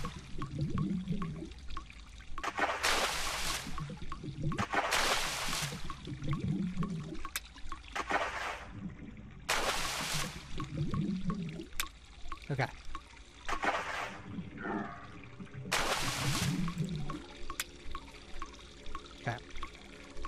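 Flowing, pouring water in the horror video game Cry of Fear, a steady trickling stream running underneath, broken by several loud rushing bursts, with a person talking intermittently throughout.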